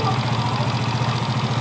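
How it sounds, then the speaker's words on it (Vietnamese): A Yamaha Nouvo 5 scooter with weak compression and hard starting runs at a steady idle nearby, its engine droning with an even pulsing beat. "xe này nổ máy rồi"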